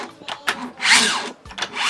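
A smart lock's deadbolt is turned by hand, its internal gearing giving short, grinding, rasping mechanical bursts up close, with brief gaps between turns.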